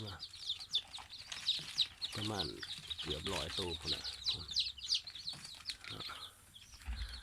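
Newly hatched chicks on a farm keep up a dense, high peeping chorus close by, with a few chicken clucks mixed in, while someone talks over them.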